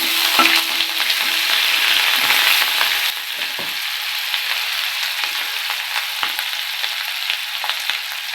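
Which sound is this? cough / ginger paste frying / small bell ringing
ginger paste frying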